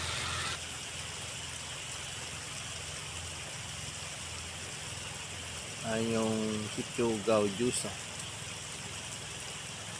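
Steady rain pours on Burias Island as Typhoon Enting passes, a dense continuous hiss filling the scene while someone speaks briefly partway through.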